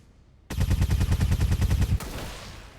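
Automatic gunfire in the video game XCOM 2, a rapid burst of about a dozen evenly spaced loud shots lasting a second and a half, then a fading rumble.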